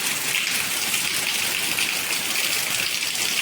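Heavy rain pours down steadily, a dense, continuous hiss of water with no pauses and no voices.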